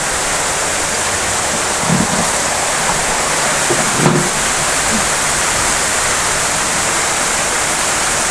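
Heavy rain pours steadily onto a veranda, a dense, constant wash of close, loud rushing water, broken by a couple of soft thuds near the middle.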